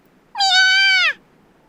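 A single clear cat meow in the video game You and Me and Her, a drawn-out mid-pitched cry lasting under a second, loud and close with no talk.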